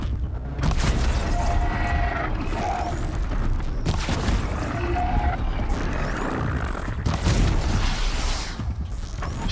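Explosions boom in Horizon Zero Dawn gameplay: three heavy blasts land a few seconds apart, each with a loud broadband burst and rumbling tail over constant game noise.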